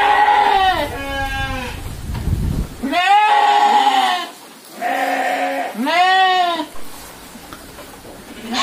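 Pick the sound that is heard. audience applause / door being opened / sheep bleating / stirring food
sheep bleating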